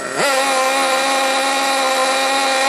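A nitro engine on an RC car runs rich, a loud, close, steady buzzing drone that catches at the start and then holds an even pitch.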